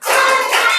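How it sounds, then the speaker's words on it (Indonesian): A class gives one short, sharp burst of clapping, part of a counted clapping routine led by a teacher in a school lesson. "Tepuk 1, tepuk 2, tepuk 3, tepuk 4,"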